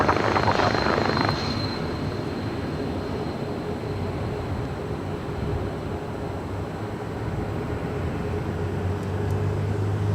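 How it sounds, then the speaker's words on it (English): A Polar Air Cargo Boeing 777 freighter lands at LAX, its jet engines a loud, steady broadband roar with a low rumble throughout, preceded by a brief burst of radio chatter. "777 freighter."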